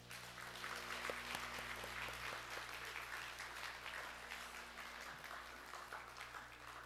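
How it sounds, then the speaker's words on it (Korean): Sustained applause from a church congregation, steady clapping filling the whole stretch with a dense, even patter and no talking over it. "우리 환영하며 박수하겠습니다"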